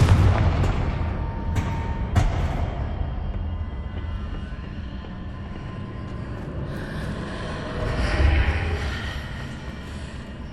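A deep, loud blast from the Confringo fire spell in the Hogwarts Legacy video game, with sharp booming hits early on, a sustained rumbling roar throughout and a swelling burst near the end.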